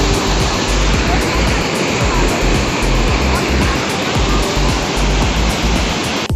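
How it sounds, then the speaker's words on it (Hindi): Dhuwadhar Waterfall near Jabalpur roars steadily and loudly throughout, a dense continuous rush of falling water with heavy low rumble and no break. "इसी की वजह से इसका नाम है धुआंधार वाटरफॉल"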